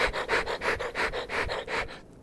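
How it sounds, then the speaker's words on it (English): Rhythmic scratching and scrabbling of a squirrel in garage rafters, about eight quick bursts in a steady pattern, like small claws scurrying over wood nearby, then stopping. "that is the sound of the squirrel in the rafters"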